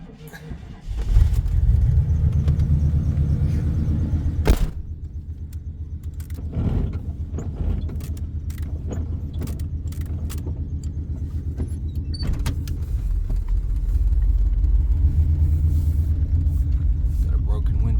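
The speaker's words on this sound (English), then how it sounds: "This truck does run. It just has a ton of blow by." A 1979 Chevy square body truck engine idles with heavy blow-by, a steady low rumble that continues throughout, with clanks and handling noises on top and people talking.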